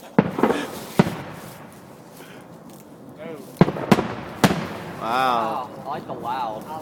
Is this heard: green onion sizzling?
no